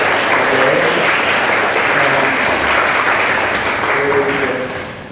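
A seminar audience at a bioeconomy lecture breaks into loud, sustained applause, a thick, close wash of clapping with faint voices beneath, tapering off slightly at the end.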